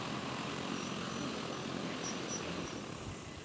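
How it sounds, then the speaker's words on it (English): A J100 drone landing outdoors on dusty ground, its propellers giving a steady, loud broadband whir with a faint high whine, continuous and close, no talk over it. "now the drone's landed back on the ground"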